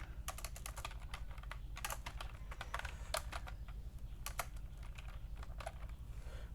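Someone types code on a computer keyboard in quick, irregular bursts of clicky keystrokes, close and fairly quiet over a low steady hum.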